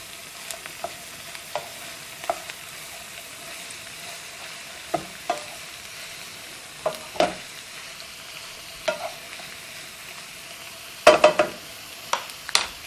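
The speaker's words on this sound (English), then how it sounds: "You can already see the kale is starting to cook down a little bit" Kale cooking down in a hot pan, a low continuous sizzle broken by repeated scraping stirs and clinks of a spoon, busiest toward the end, no one speaking.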